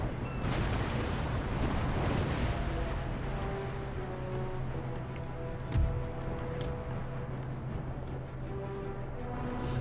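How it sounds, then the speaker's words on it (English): Naval cannon fire during a battle in Empire Total War, with booming shots and crackling impacts over a dense, continuous rumble of combat and a steady low musical drone. "get another few more guns firing onto Pennsylvania"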